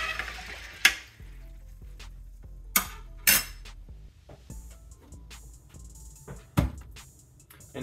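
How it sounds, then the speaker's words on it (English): A spoon stirs corn grain in a metal pressure cooker, giving a few sharp clanks and scrapes against the pot spread across a quiet kitchen background, with softer rustling in between. "I'm gonna go ahead and stir this up a little bit with a spoon just to get it mixed up, get it off of the bottom of the cooker."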